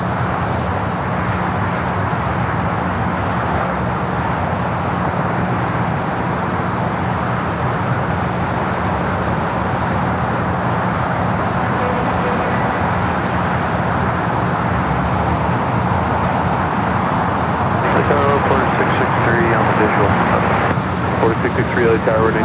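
A cargo plane takes off on runway 25 left at LAX, a broad continuous engine roar filling the whole stretch from a distance with steady rumble, while a person talks over it.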